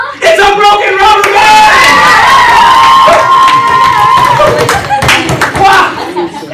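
Middle school students in a classroom game show clap and cheer loudly, with excited shouts and children's voices over sustained applause that tapers off toward the end.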